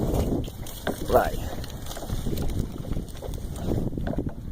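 Strong wind blows across a lagoon during a fishing trip, roaring steadily into the microphone with dull buffeting and thumps while people talk.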